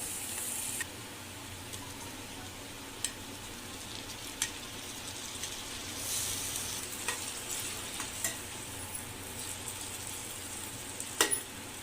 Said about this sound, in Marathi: कांदा पूर्ण आपल्याला ब्राऊन होईपर्यंत परतवून घ्यायचा आहे आणि यानंतर त्यामध्ये भाजलेले टोमॅटो आणि मिरच्या टाकून व्यवस्थित मिसळून घ्यायचं आहे